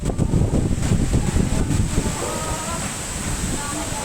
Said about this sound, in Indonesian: Hujan deras disertai angin kencang melanda kota Surabaya